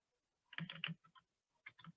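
Text being typed on a computer keyboard in two short bursts of soft, close key clicks separated by a brief pause, with no voices.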